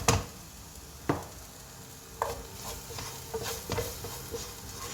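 Food sautéing in a pan with pepper and tomato, a steady soft sizzle broken by a few sharp scrapes and stirring knocks, close and quiet with no talk.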